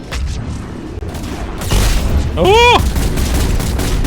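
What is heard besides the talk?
grenade explosions and gunfire in the video game Mass Effect 3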